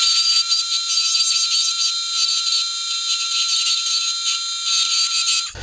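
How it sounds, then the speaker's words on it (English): Bench grinder grinding steel off an aluminum boat trailer bunk bracket: a continuous high-pitched whine with a steady gritty rasp, loud and close, ending abruptly. "we're gonna take this over to the grinder and we're gonna grind all that steel off right there"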